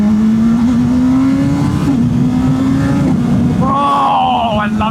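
A budget superbike's engine drones steadily and rises in pitch as the rider accelerates, loud and continuous with wind rush, before a higher revving whine near the end.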